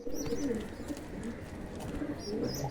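A pigeon, just released into its coop, gives a few short, close coos alongside soft fluttering chirps over a low background hum.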